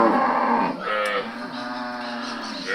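Cattle on an outback farm mooing in long, loud harmonic calls that overlap and continue through the clip, with no talk.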